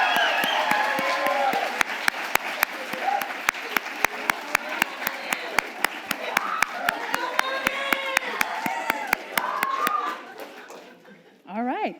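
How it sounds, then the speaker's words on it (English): An audience at a student celebration event applauds with a dense, steady clapping under cheering and chatter in a large room, with a steady rhythmic clap running through until it fades out. "Guests, if you could please give them a huge round of applause."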